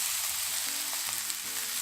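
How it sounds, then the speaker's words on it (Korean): A napa cabbage jeon pancake fries in a generous layer of oil in a pan. A close, continuous crackling sizzle with small pops plays alone, with no talking. "이때 기름을 넉넉하게 둘러주시면 약간 튀기듯 바삭한 전을 만드실 수가 있어요"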